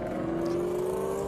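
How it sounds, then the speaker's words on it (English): Ferrari race cars in a racing video game give a steady, loud engine whine that climbs slightly in pitch throughout, with no talking. "Variant Skunkworks going to take up the rear as Numbskull leads them down in those Ferraris"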